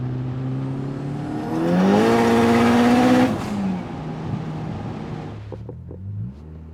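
A 530-horsepower, 3,000-pound Talon car accelerates hard nearby, its engine note climbing in a loud rising rev that peaks and then falls back to a rough idle before a few short clunks.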